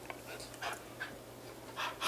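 A dog pants close by in quick, rhythmic breathy bursts over a low steady hum, with no voices.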